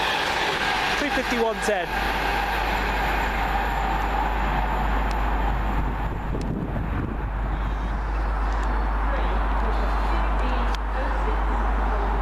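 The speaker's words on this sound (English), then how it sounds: "Here comes the Crewe Desi from London Euston." A Crewe-bound train from London Euston rolls into the station with a low, steady rumble under strong wind buffeting, while someone talks over it near the microphone.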